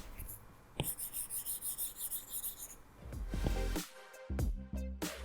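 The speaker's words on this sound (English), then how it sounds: "Here is an example of how it sounds writing on this cheap matte screen protector." Scratchy stylus strokes rasp across a cheap matte screen protector on an iPad, a steady run of short rubbing scrapes followed by quicker taps and scribbles, close and fairly quiet.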